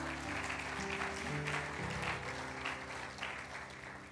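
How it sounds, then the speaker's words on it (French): Church congregation clapping and applauding for the Lord during a worship service, steady sustained applause over music with a strong low bass line and held chords, moderately loud throughout. "Acclame pour le Seigneur."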